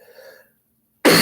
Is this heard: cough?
yes